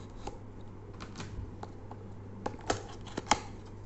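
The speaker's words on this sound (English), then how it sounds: "So let's open the tape and let's see what's inside." Packing tape on a Poetic Revolution phone case box is picked and peeled in a few short, quiet scratchy tears and crackles, close up with no voices.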